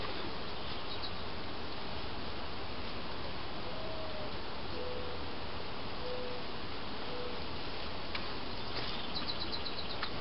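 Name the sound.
honeybees buzzing inside a crowded hive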